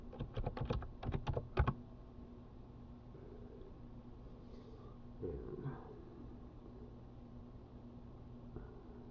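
Password typed on a computer keyboard, a quick close run of crisp key clicks in the first two seconds, then a quiet room with faint fan hum and small stray sounds.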